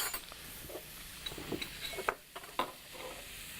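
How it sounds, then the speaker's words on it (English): Catfish stuffing being mixed in a pan just off the heat, with soft scraping and stirring clatter, a faint residual sizzle and occasional sharper clinks of utensil on pan. "pull it off the heat to add in the rest of our ingredients and mix this"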